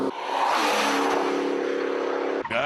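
A Vauxhall/Holden VXR8 accelerates hard, its engine note climbing steadily into a loud, sustained roar that holds close by for a couple of seconds before cutting off with a brief gear-change dip near the end.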